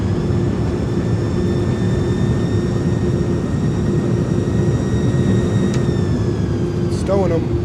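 Loud, steady roar of an iniBuilds A300's engines with thrust reversers deployed just after landing in a flight simulator, a constant low rumble with a faint tonal whine above it.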